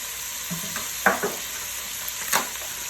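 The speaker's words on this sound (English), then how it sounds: "Our sausage is cooking down. Releasing some oil." Sausage sizzling in a pan as it cooks down and releases oil for lasagna, a steady close frying hiss with a few louder spits and stirring scrapes, no talking.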